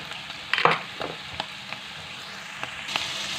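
Olives drop into a sizzling pan of frying chicken, giving a brief burst of louder crackling and spitting over a steady background sizzle, then a few scattered pops.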